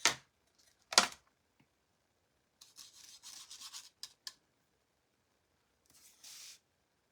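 A toothbrush scrubbing a mailbox to give it an aged look, with two sharp knocks at the start, then several short bursts of close, bristly rubbing and brushing separated by quiet gaps.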